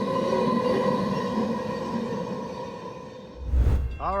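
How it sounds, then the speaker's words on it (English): Runaway railcar rolling down the Sand Patch grade in the Allegheny Mountains of Pennsylvania, a steady loud rumble with wheel squeal, then a sharp whoosh and deep thump as it passes close near the end. "a runaway railcar rolled down the grade"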